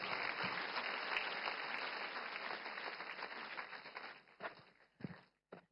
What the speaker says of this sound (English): For you, you can clap.